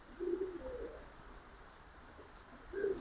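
Pigeons coo in a loft of colourful Giribaz fancy pigeons, low soft coos rising near the start and again near the end over a steady background hum.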